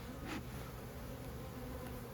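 Honey bees drone in a steady, close, even buzz while a hive is opened for an early May inspection, with no voices over it.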